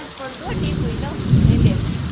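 Dense rain roars continuously, joined by a deep rolling rumble of thunder that swells toward the end.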